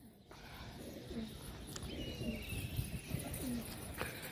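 Soft low cooing of pigeons repeats a few times, fairly quiet, amid faint outdoor background noise and flutters.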